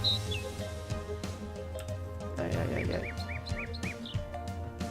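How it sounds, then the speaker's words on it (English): Birds chirp in a Lord of the Rings video game, with a series of short rising tweets repeating in a quick run over a busy background of game sounds and scattered clicks. "let's see if I can kill that bird"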